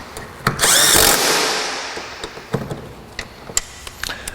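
A 3/8 pneumatic impact wrench drives a 1/4 inch Grey Pneumatic impact socket through a step-down adapter, with one loud burst of hammering lasting under a second. Sharp metallic clicks and knocks follow.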